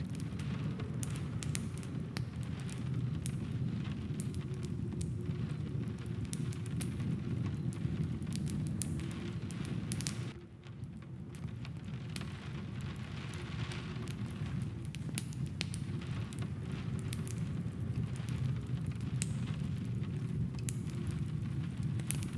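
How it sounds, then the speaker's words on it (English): Steady rain falls continuously in a forest setting, a dense even hiss of drops with a brief dip partway through, with no voices. "As you listen to the rain, notice the subtle variations in its intensity."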